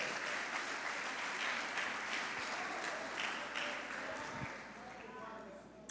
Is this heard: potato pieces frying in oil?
no